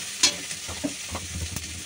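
Tomato, chopped chilli and onion fried in a pan for chowmein, a steady sizzle with a spatula stirring and scraping in short knocks, close and moderately loud.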